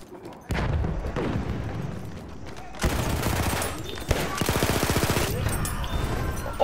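Loud gunfire in the video game Battlefield 1 starts abruptly and continues throughout, with rapid automatic bursts, heavy booms and a steady rattle of shots.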